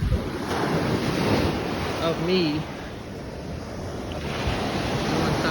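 Ocean surf washes in steadily at Atlantic Beach, with wind buffeting the microphone throughout; a voice speaks briefly partway through.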